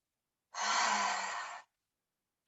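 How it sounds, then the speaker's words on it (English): A single long exhalation through an open mouth during a morning yoga breathing exercise, a breathy sigh lasting about a second, close and fairly loud, then silence. "Cleansing breath out, an open mouth."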